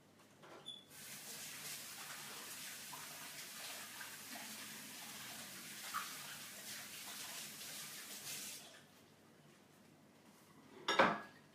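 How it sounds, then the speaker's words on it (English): Tap water runs steadily as hands are washed under it at a kitchen sink during baking, a soft continuous splash that stops suddenly and ends with a brief clatter. "Just give me a tick to wash my hands."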